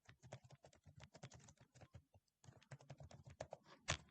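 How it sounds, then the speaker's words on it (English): Rapid clicking keystrokes on a computer keyboard come in close, steady bursts, with a short pause midway before the typing resumes and ends on a sharper key press. "Just watch what I'm typing."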